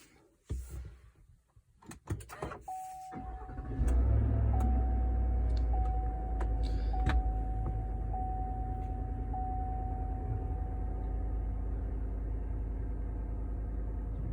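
Idling 2020 Chevy Silverado Trail Boss V8 fitted with its stock air filter, a steady low rumble that settles in after a few door and handling knocks, heard up close from inside or near the truck.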